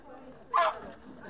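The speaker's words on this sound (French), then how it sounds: "Parfois, on a des chiens qui sont un peu agressifs, qui agitent." A single short dog bark rings out at a canine animal welfare fair, one brief sharp burst standing out over a steady murmur of background voices and crowd noise.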